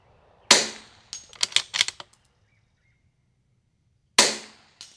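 Two sharp, loud cracks from a Bergara B14R rifle, spaced a few seconds apart, with a quick run of metallic clicks between them and otherwise quiet surroundings.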